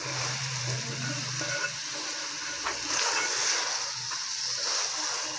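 Potatoes, peas and moongre sizzle and fry steadily in a pan with ghee, a continuous close crackling hiss with faint stirring scrapes and no talk.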